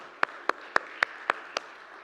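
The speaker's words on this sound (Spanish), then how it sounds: "Denle un aplauso al Señor" Six evenly spaced, crisp claps ring out in a slow steady rhythm as a church congregation applauds after a prayer, close and clear with a little room echo.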